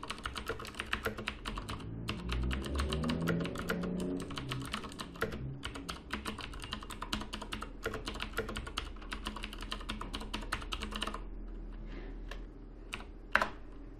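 Steady typing on a computer keyboard as commands are entered on a Linux machine, a quiet run of close, rapid keystrokes that ends with a slightly louder key press, with no voices.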